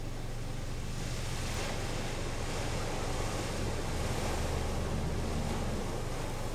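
A 4WD pushes through river water in the Victorian High Country, giving a steady, loud wash of rushing water and engine rumble with no talk.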